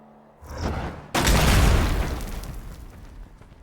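A loud booming explosion of barrels in the video game Terrinoth: Heroes of Descent, a sharp blast after a brief rumble that rolls out into a long, decaying roar, with no talking over it.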